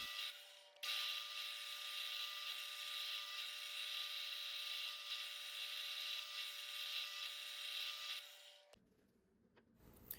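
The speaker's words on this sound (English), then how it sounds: "drill the hole for the rod 5/16 all the way through" Rosewood knob being bored through with a Forstner bit for a 5/16 rod, a steady loud whine of drill and cutting wood running about eight seconds alone before stopping and fading into quiet rustling.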